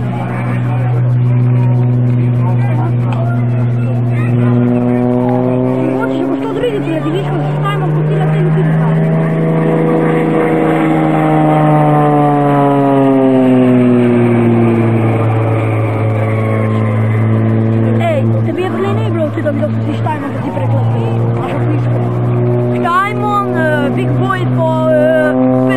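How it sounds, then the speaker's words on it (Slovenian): A close, loud engine drones steadily as it warms up for the Peter Podlunšek EXTRA 330SC water show, rising in pitch through the middle before settling back to a steady idle, with people talking faintly throughout. "Motor se greje."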